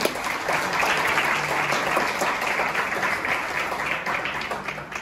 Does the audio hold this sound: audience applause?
yes